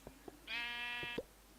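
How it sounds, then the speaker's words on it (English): A single clear sheep bleat from a Minecraft-style video game, one sustained nasal cry lasting under a second, preceded and followed by soft faint clicks over a quiet background. "We got our sheep into our house."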